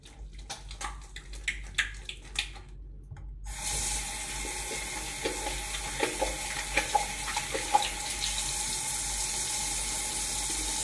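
Water streams steadily from a hotel bathroom shower, a broad continuous hiss that starts abruptly a few seconds in after quiet handling clatter, then runs loud and close with small splashes and knocks.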